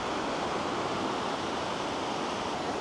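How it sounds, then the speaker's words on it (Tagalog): Rough ocean surf breaks on White Beach, Boracay, during habagat monsoon season, a dense, unbroken wash of waves that stays loud and steady throughout, with no voices. "Maalon dito dahil nga habagat season."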